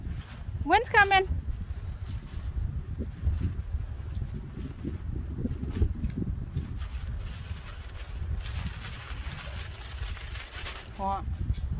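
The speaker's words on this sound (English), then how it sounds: "Wind's coming." Outdoor wind buffets the microphone during family kite flying, a constant low rumble that swells and eases, with voices and a few high squeals over it.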